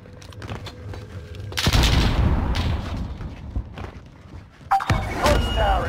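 Gunfire rattles in the video game Warzone, with bursts of shots and booming impacts in a busy, loud mix, and a player's voice comes through among the shooting.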